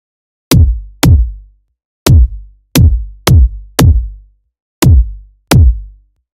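A synthesized drum and bass kick drum hits eight times in an uneven pattern, each a loud, punchy thump with a sharp click attack and a short booming decay, alone with no other sounds.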